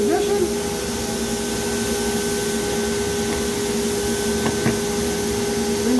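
A Leister hot-air heat welder joins a banner splice with a steady, loud rushing blow of air and a constant fan whine that runs unbroken throughout.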